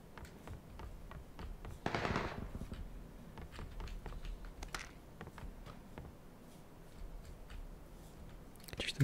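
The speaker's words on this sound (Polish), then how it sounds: "Blisko się strzelają." Nearby gunfire in PUBG, a scattered run of sharp cracks and short bursts heard at moderate distance beneath quiet game ambience, with one louder burst of noise early on.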